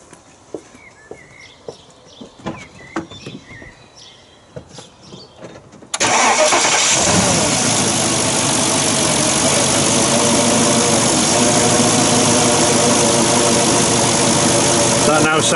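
Quiet clicks and small noises, then a Porsche Cayenne Turbo 955 engine, after a boost leak repair, cranks and roars to life, settling into a loud, steady idle.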